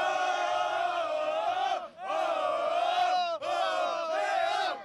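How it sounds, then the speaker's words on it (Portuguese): Avaí supporters of the Mancha Azul group chanting loudly in unison at a football stadium, a large crowd singing in long sustained phrases with brief breaks between lines. "a emoção e a torcida cantando muito"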